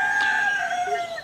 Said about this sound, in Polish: Słyszą Państwo w tle koguty.